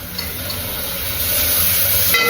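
Ginger garlic paste and tomato sizzle in a hot pan for biryani, a steady close frying hiss that grows slightly louder toward the end, with no voices.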